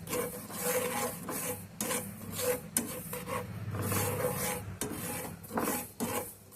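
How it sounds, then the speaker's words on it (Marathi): Poppy seeds are dry-roasted and stirred in a pan for sambar vadi, making a close, rhythmic rasping scrape as a spoon drags repeatedly through the seeds, with brief pauses between strokes. "आपण खसखस भाजून घेऊया खरपूस खसखस आपण भाजून घ्या"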